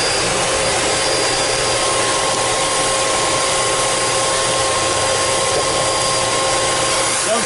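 A Miele S558 canister vacuum cleaner runs at close range with a loud, continuous broadband whoosh and a steady whine that holds unchanged from start to finish.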